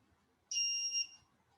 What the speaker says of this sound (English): My dog didn't like that buzzer very much.